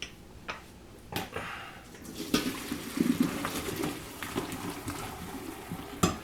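Boiled potatoes are drained from a cooking pot: water splashes and pours out steadily, with a few sharp clanks of the pot, all close by with no talking.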